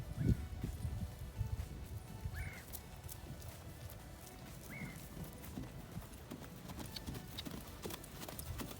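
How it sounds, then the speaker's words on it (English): A horse trots on the lunge line in side reins and a Pessoa lunging system, its hooves beating a steady clip-clop at mid distance over outdoor ambience. "let's go ahead and see how she handles the trot"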